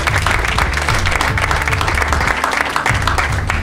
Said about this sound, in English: Let's give a round of applause to Trustee Sneed.